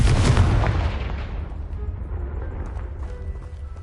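Confringo blasting spell exploding a debris pile in Hogwarts Legacy, a loud booming blast at the start whose rumble decays over several seconds, with small crumbling debris sounds trailing off.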